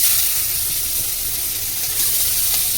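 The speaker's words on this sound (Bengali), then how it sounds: "পেঁয়াজটা ভালো করে ভাজা ভাজা হয়ে যাবে," Chopped onion sizzles with black cumin in hot oil in a pan used just before for frying tilapia, giving a loud, steady, close hiss that stays even from start to finish.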